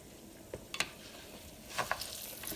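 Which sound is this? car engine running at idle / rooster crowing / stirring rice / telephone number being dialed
stirring rice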